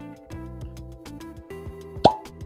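Single near pop as the cork pulls free from a Jack Daniel's Single Barrel Barrel Proof bourbon bottle, a short sharp plop near the end after quiet room hum and light tapping.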